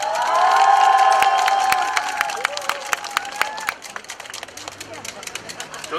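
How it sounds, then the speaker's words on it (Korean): A crowd greets a presidential candidate at a 2017 election rally in Ulsan, South Korea, with loud cheering and shouting that fades into scattered clapping and claps over several seconds. "큰 박수로 맞이해주시기 바라겠습니다."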